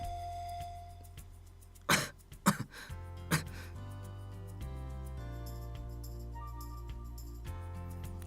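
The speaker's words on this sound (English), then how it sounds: "his face was tight with pain, and his coughing was getting worse" A storyteller performs a few harsh coughs, three sharp bursts in quick succession with a throat-clearing rasp between them, followed by a quiet stretch.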